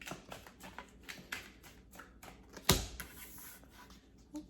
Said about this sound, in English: I'm already making a mess with my shuffle here